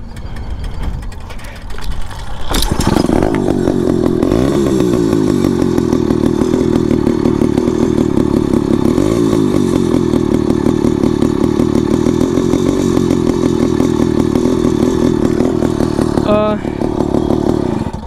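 A motorized bicycle's small engine starts and runs loud and steady at close range for most of the clip, a buzzing, rattling drone after a brief quieter lead-in.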